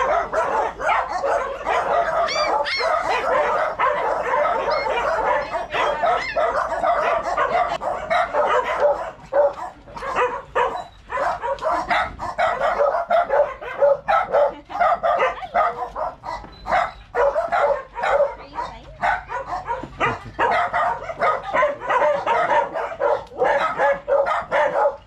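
Many dogs at a shelter in the Philippines bark continuously, a dense, loud chorus of overlapping barks and yips with occasional whimpers.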